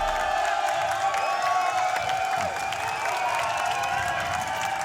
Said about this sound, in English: We've got the MiBR cheering crowd audience right here.